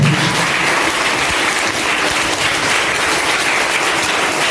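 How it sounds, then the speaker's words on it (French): An audience at an event at the Complexe Hibiscus claps in a dense, continuous burst of applause that stays loud and even throughout. "On applaudit le Seigneur."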